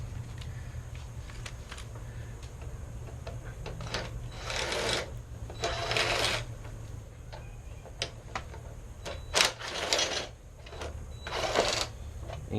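A tool works out four T25 bolts holding the motor housing of a window motor on a 1995 Chevy Silverado, with rapid ratcheting clicks in bursts and metallic scrapes close up over a steady hum.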